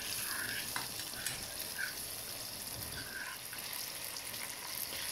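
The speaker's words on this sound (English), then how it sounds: "So the cream's coming to the boil now." Cream coming to the boil in a pan for a creamy chicken, bacon and mushroom tagliatelle sauce, a continuous bubbling, crackling sizzle heard alone at a moderate, even level.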